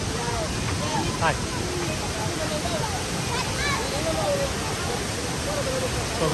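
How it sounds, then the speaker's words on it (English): Roar of the huge Tinuy-an Waterfall in Mindanao, Philippines, a steady, loud broadband rush of falling water filling the whole stretch, with faint voices and a few brief chirps over it. "So there you can see the scale of the waterfall. It's absolutely huge."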